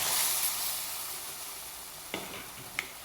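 Tamarind water hits frying masala for a toddy-shop-style fish head curry, giving a steady, fairly quiet sizzle throughout with a couple of faint clicks near the end.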